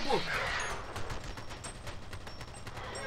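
Shotgun gunfire from the video game F.E.A.R. Extraction Point comes as a dense run of booming blasts with crackling debris, loud and continuous, mixed with other game noise.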